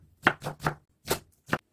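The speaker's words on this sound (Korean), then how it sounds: "양파하고 파를 곱게 다져주세요" A kitchen knife finely mincing onion and green onion on a cutting board, giving five separate chopping bursts: three quick ones close together, a pause, then two more, close and moderately loud with no talk.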